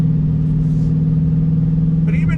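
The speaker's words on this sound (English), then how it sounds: "Love that V8 sound. The Coyote has a great sound." A 2020 Shelby GT350R with a V8 heard from inside the cabin: a loud, steady low engine drone at an even pitch with no clear rev, and a faint voice near the end.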